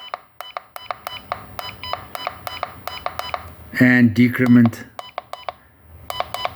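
A rapid series of short, sharp electronic beeps from an Arduino egg timer buzzer repeats at a steady pace, briefly broken by someone speaking before the beeping resumes.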